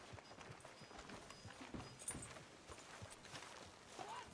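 Horse hooves clop steadily in Red Dead Redemption 2, a quiet, even rhythm of soft hoofbeats over a low background hum.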